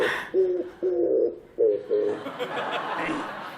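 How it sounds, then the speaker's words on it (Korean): An oriental turtle dove coos in a short phrase of rhythmic, hollow notes, fairly close and alone, followed by faint background noise. "구구 꾹꾹 반박 한박 이래가야 맷비둘기 소리가 나온다"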